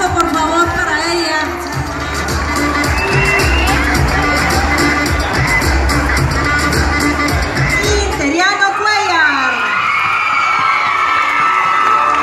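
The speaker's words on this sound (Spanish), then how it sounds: "Un fuerte aplauso por favor para ella" Cheering and shouting from a crowd of children and adults for a girl at a Montessori school golden anniversary event, loud and sustained before dropping away near the end.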